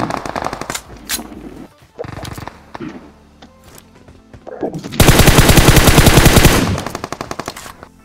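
Automatic gunfire in the mobile battle royale game BGMI: scattered single shots and short bursts, then a long sustained loud volley near the end, with game effects between.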